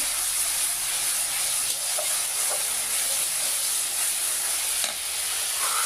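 A spice paste fries in a pan with a dense, steady hiss and sizzle. Faint scraping from stirring comes through now and then, and nobody talks.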